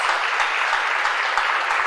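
A church congregation applauds during a sermon, a dense steady wash of many hands clapping together, continuous and fairly loud for the whole moment with no pauses.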